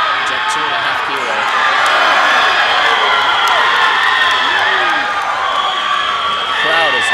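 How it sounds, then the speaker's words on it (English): Huge crowd at the World Classic Powerlifting Championships 2018 roaring and cheering loudly and continuously, with whoops and shouts in a dense wash of noise that stays at full strength throughout. "The crowd is roaring. It is a huge crowd."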